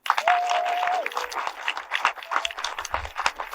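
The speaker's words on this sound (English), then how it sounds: "But individually, can we have a round of applause for Mark Hadfield?" A film screening audience claps in scattered, uneven bursts, fairly sparse and moderately loud, with a brief tonal whine early on.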